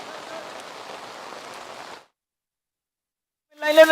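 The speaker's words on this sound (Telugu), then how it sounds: "వాన అతి దారుణంగా దంచి కొడుతుందనే చెప్పొచ్చు" Heavy rain in Hyderabad hisses steadily for about two seconds, then sudden silence, followed by a voice starting up at the end.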